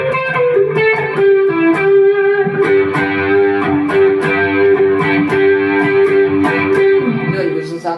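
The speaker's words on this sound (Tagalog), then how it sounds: "Tapos ito naman yung preamp na may chorus." An electric guitar runs through an Mvave Tank G preamp with chorus, playing sustained, shimmering notes and strummed chords. The tone is loud and continuous and plays on its own, with no talk.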